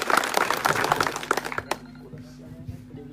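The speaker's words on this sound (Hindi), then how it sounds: "जोरदार तालियां से मेहमानों के लिए" A crowd claps loudly for guests at a gathering for saints in Pokhran. Dense, steady applause fills the first second and a half, then cuts off abruptly and gives way to quieter murmuring and a low sustained hum.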